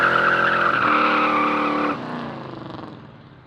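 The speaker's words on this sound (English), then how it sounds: "I never get to do a burnout." A Chevrolet C10 pickup truck doing a burnout, with loud, close tire squeal over a roaring engine that drops off and fades near the end.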